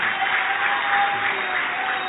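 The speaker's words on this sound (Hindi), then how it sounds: "तुम लोग तालियां बजा रहे हो" Steady applause from an audience at a religious gathering, a continuous even wash of clapping heard from a short distance for the whole stretch, with no talking over it.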